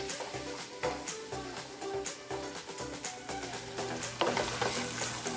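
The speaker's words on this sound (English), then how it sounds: "Saute this for a few minutes" Eggplant with onion and garlic sautéing in a pan, a steady close sizzle with scattered crackles and faint clinks throughout, no voices.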